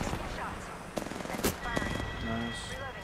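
Rapid video-game gunfire, bursts of automatic shots and sharp single cracks, heard under excited players talking over each other.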